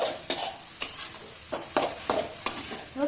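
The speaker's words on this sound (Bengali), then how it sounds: "একটু ভালো করে নাড়তে হবে মশলাগুলো" Mashed eggplant and spices are stirred in a pan, a utensil scraping in about seven quick, rhythmic strokes with faint sizzling between them, close and fairly quiet.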